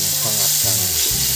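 Sambal goang warms in a frying pan with a loud, continuous sizzle and crackle, steady and close throughout, with faint stirring scrapes mixed in.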